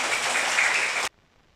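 A class of first-grade children claps together for a classmate during a Bengali letter-recognition game, a dense burst of applause that stops abruptly, followed by near silence.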